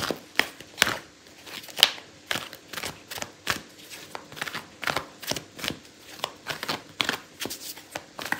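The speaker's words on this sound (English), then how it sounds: "I'm gonna pull out a card for your advice" A deck of tarot cards is shuffled by hand again and again, making crisp, close riffling slaps in a steady rhythm, with no talk over them.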